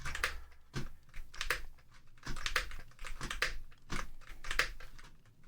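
Computer keyboard typing during a Minecraft MCC Parkour Warrior game stream: close, quick bursts of key clicks in irregular clusters, repeating throughout with short pauses and no talk.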